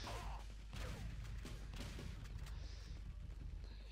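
Rapid gunfire in the arena shooter Quake Arena during an online match, a dense run of sharp shots and booms close up, steady and loud throughout.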